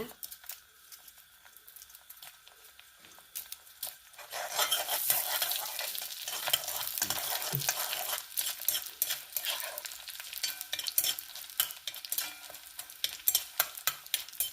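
Mustard seeds, chana dal and urad dal frying in sesame oil for Andhra-style chitranna start quiet, then break into a loud crackling sizzle with brisk close stirring and scraping that eases toward the end.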